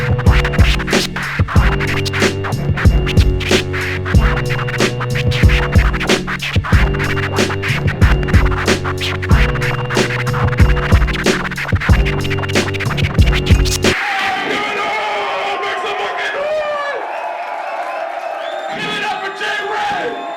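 DJ turntable scratching records in rhythm over a pounding beat at a live stage show, then cut off as a loud crowd erupts in cheers and shouts.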